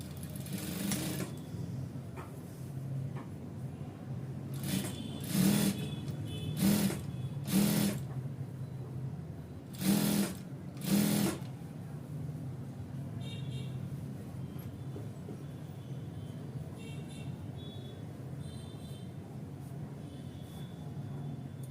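A sewing machine runs half-inch stitching around the leg of an ankle-length pant, a steady close motor whir punctuated by several short, louder bursts of rapid stitching near the middle.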